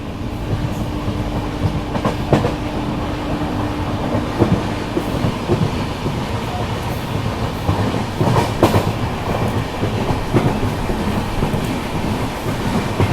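A passenger train runs on the Ahmedabad to Kanpur line, giving a steady loud rumble with repeated clickety-clack wheel beats over rail joints. It continues without a break and no voices are heard.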